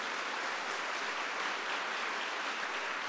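Audience applause at a family-and-faith church talk, a steady dense wash of clapping that fills the whole stretch at moderate loudness with no break and no talk over it.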